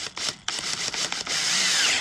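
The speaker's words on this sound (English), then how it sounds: "So now we got our big boy drill. The 1-inch drill bit." A big power drill spins a 1-inch bit while boring a hole during a Ford Performance hood strut install. A steady high whine runs in short bursts, then settles into one long continuous run, close and fairly loud, with no talking.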